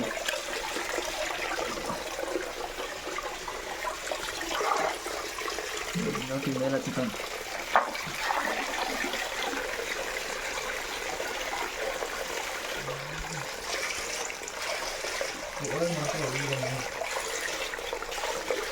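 Continuous rushing of a waterfall, Himmadgiri Falls at Jogimatti, fills the scene, with a few faint voices murmuring underneath at times.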